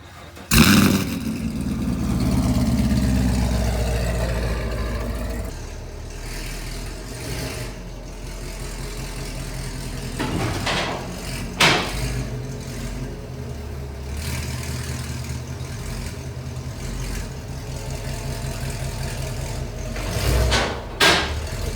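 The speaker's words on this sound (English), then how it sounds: "now we can go see if the Camaro will actually start" A sixth-generation Chevrolet Camaro cranks and fires up after a starter replacement, roaring loudly at first, then settling into a steady low idle with a few sharp clicks and knocks, heard near and without talk.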